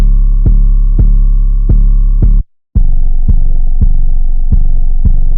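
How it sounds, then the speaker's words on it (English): Deep, booming 808 bass drum hits pulse in a regular pattern, loud and sustained, with a brief drop to silence before the pattern resumes at a lower pitch. "So this is the 808 I'm using."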